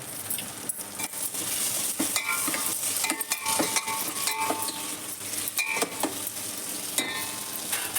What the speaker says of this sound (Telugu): ఒక రెండు నిమిషాలు కారం ఉప్పులో వేగనివ్వండి